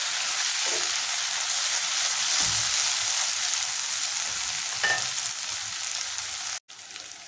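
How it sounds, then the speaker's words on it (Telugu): Dried prawns fry in hot oil in a pan with a steady close sizzle and occasional soft stirring scrapes, then a brief cut near the end before the sizzle resumes. "ఎండ్రాయిలు కూడా బాగా వేగినాయి."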